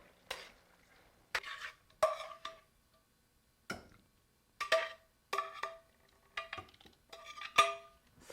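A spatula scrapes and knocks in a pan as pork and sauce cook, in a series of separate stirring strokes with little sizzle beneath, fairly quiet.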